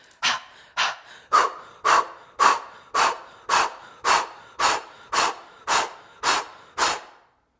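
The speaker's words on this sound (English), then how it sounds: "I encourage you to start with panting, to stick with panting if that is going to help you hold it" Forceful, rhythmic panting from a Dragon's Breath breathing exercise focused on the exhale: about a dozen sharp, evenly spaced breaths, close and loud with brief silences between them.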